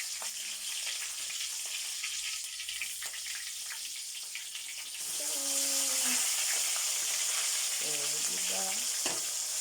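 Fishjoy fish fries in hot oil with a steady, close crackling sizzle that swells louder midway, while a voice murmurs briefly in the background.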